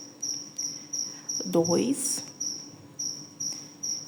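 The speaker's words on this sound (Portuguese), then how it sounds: "Tem um grilo aqui gritando, né, pessoal?" A cricket chirps steadily close by in a quiet indoor setting, sharp regular pulses repeating about twice a second, while a voice briefly counts aloud over it.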